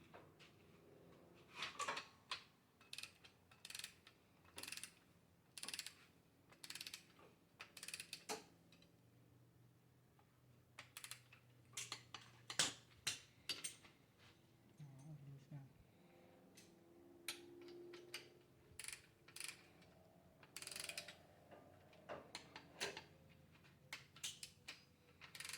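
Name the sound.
torque wrench tightening head bolts on a 351W short block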